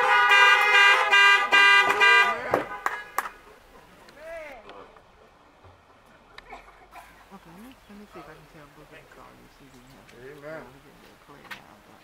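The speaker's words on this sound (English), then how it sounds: "Horns blowing all over the parking lot." Car horns honking across a parking lot during a men's chorus praise and worship gathering: a loud burst of overlapping horn blasts at first, then scattered toots mixed with a voice speaking and exclaiming.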